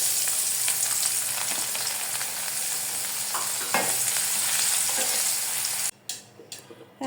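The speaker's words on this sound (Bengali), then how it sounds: "পেঁয়াজ এবং রসুনটা আমি ভেজে নেব।" Onion and garlic sizzle and fry in hot oil in a pan, a steady crackling hiss with occasional stirring scrapes, ending in a few short spatters.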